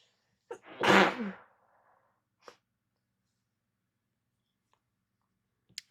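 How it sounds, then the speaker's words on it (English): A single loud, close sneeze erupts near the microphone, followed by a faint click and a brief sniff in otherwise near silence. "I'm gonna sneeze."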